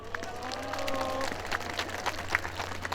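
Outdoor audience applauding at a Tongyeong citizens' concert in the Gangguan central square, a steady spread of crowd clapping at moderate volume with a faint held tone underneath.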